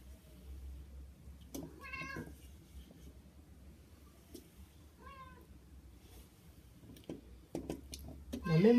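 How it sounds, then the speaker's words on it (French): Domestic cat in a kitchen where couscous is being prepared, giving two short, faint meows a few seconds apart amid quiet household clatter. "Il y a même mon chat qui a envie de manger du couscous."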